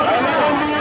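Dense crowd babble at the Baroni mela fair near a temple, a continuous wash of many overlapping voices with no single speaker standing out, steady and fairly loud throughout.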